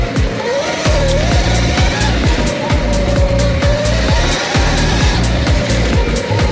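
A Surron electric pit bike, upgraded, being ridden with a steady, loud electric motor whine that rises and falls gently with speed, over continuous rhythmic rattling and clatter from the ride.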